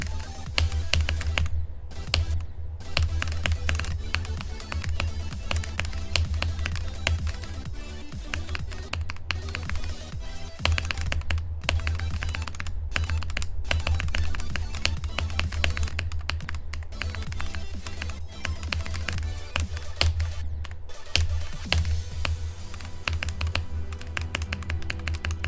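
Steady, rapid computer keyboard typing runs the whole time, loud and close, with dense clicking keystrokes over a constant low hum and a few brief pauses.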